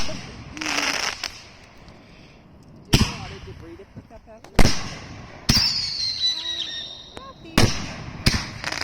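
Several sharp firework bangs at irregular intervals, some followed by crackling and a whistling streak, with voices talking in between.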